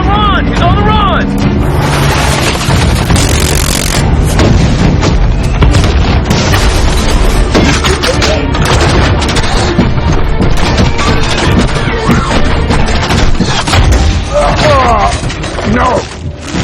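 Missile explosions roar through a Transformers film battle scene, a dense, loud wall of booms and crashing impacts that runs continuously, with shouted voices mixed into the barrage.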